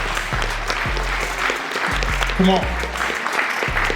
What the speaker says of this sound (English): So that right there deserves an applause.